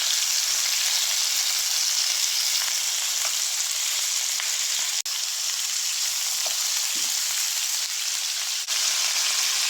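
Pork for buto-buto caldereta frying in a pan until golden brown, a steady dense sizzle with faint pops and an occasional clink of a utensil.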